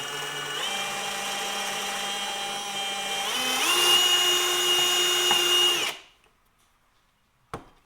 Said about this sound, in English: All you do is put the bit in the hole, start drilling.